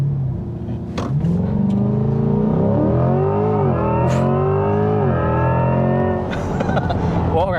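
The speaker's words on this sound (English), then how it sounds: "I don't know if you guys could hear the electric motor sound almost kind of sounds like a supercharger" A 2024 Chevrolet Corvette E-Ray hybrid accelerating hard, its engine note climbing through gears with a rising electric-motor whine layered on top, loud and close, with brief voices in the cabin.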